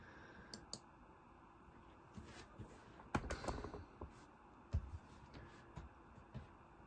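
Mouse clicks on a computer while opening documents, a scattering of faint, sharp clicks at irregular intervals over a quiet room background, with a slightly louder cluster near the middle.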